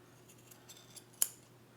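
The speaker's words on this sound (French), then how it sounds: "Hop, et on va couper ce qui dépasse." Scissors snip once through the yarn fringe of a hand-made twisted scarf, a single close, crisp cut rising out of a quiet room with faint lighter snips just before it.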